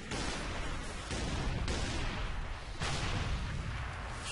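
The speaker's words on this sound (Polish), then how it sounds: "Wszystko wybucha." Explosions and gunfire from a Halo 3: ODST battle form a dense, unbroken roar of blasts and shots. The barrage stays loud and steady throughout, with a few sharper bursts punching through.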